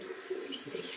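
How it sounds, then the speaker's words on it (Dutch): A tap runs warm water into a sink for face washing, giving a steady, close, continuous splash and hiss with no pauses. "Even de kraan warm laten worden."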